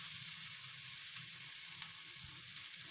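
Mutton koftas frying in hot oil, a steady bright sizzle with soft crackles and occasional pops, close and continuous, with no talking.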